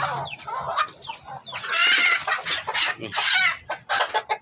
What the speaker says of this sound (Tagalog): Ang lalaking manok.